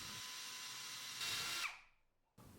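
A power drill bores a hole into a broken toy during a repair, whirring steadily before rising in pitch, then winding down and cutting out, with a brief restart at the end; fairly quiet and close.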